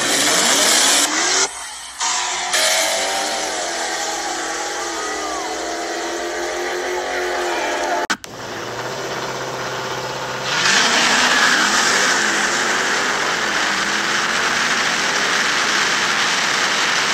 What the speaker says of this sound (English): Today, we have a scat pack on a 300 shot of Hank Hill Go-Go Gas